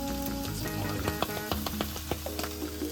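A tomato and herb mixture seasoned with salt, pepper and Italian herbs sizzles in a frying pan for a stuffed capsicum, with light scraping stirs clicking over the steady hiss and music playing beneath.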